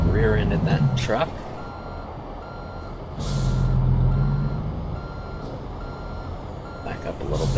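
An American Truck Simulator rig backs up with steady reversing beeps, while air brakes hiss in loud bursts near the start, middle and end, and someone talks over the engine.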